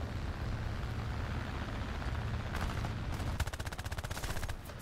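Aircraft cannons firing in War Thunder, starting as a low droning engine roar before rapid bursts of cannon fire break out, loud and close, ending in a quick regular stutter of shots.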